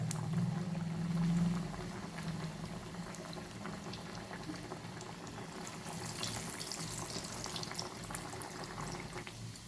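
Chana dal vadas deep-fry in hot oil, giving a steady, dense bubbling and crackling hiss that runs unbroken and fairly close, slightly louder at the start.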